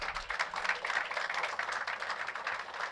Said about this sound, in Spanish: ¿Cuánto puedes dar un fuerte aplauso al Señor?